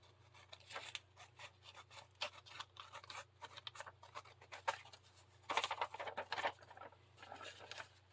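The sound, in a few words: scissors cutting out a paper tag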